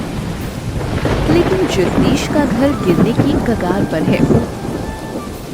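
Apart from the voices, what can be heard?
rain falling with thunder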